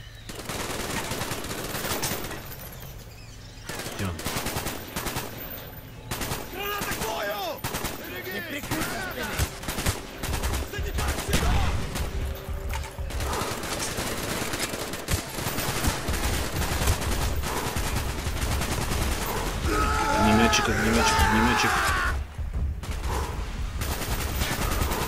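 Gunfire in the Vietnam-set shooter Call of Duty: Black Ops, sustained machine-gun bursts and scattered shots with explosions running throughout, mixed with voices talking over the battle.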